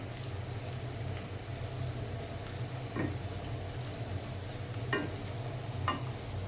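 Onions browning in a frying pan with a steady sizzle, while a utensil scrapes and stirs them in a few distinct strokes during cabbage and pea cooking.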